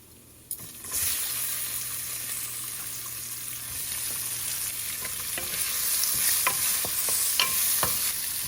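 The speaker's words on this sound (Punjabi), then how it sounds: "ਪਿਆਜ਼ਾਂ ਨੂੰ ਆਪਾਂ ਥੋੜੇ ਜਿਹਾ ਭੁੰਨ ਲਵਾਂਗੇ" Onions and ground spices frying in a pan, a dense, bright sizzle that starts abruptly and holds steady, with occasional ticking spatula scrapes, close up and without speech.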